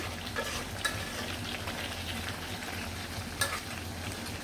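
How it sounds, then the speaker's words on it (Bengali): Mutton is sautéed slowly in a pan with spices for a red curry, a continuous moderate sizzle with faint scraping stirs and a couple of sharper clinks, heard close with no speech. "খাসির মাংস একটু বেশিক্ষণ কষাতে হয়"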